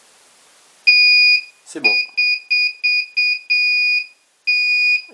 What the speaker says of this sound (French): Le premier essai que je vais faire, c'est déjà le buzzer.